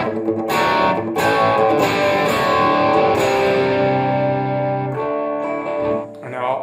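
An electric guitar plays through a Bode 3534 amplifier on its light overdrive channel with the boost pedal switched off, ringing chords and strummed notes sounding loud and continuous, with a few sharp strums and a brief dip near the end.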